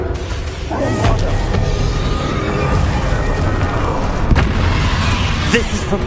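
A Bombarda spell blast during a Hogwarts Legacy duel, a muffled boom under a continuous dense wash of game combat noise, with a voice speaking over it.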